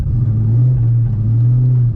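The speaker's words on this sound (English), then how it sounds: "It's really good for just the exhaust notes" A straight-piped Ford SVT Cobra with a Bassani off-road X-pipe exhaust rumbles at a steady, deep idle, loud and close for two seconds with no other sound.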